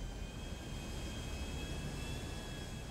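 An airplane engine drones steadily in Grand Theft Auto V, a constant moderate hum with a faint high whine and no voices.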